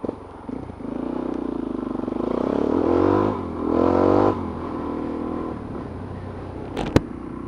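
A Suzuki DR-Z motorcycle fitted with a quiet exhaust insert rides along, its engine droning steadily with two rising rev surges in the middle before settling back, with a couple of sharp clicks near the end.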